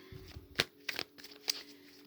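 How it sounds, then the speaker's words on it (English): A tarot deck is shuffled by hand, three short papery riffles at uneven intervals, close up and soft, with no voice present. "3 shuffles"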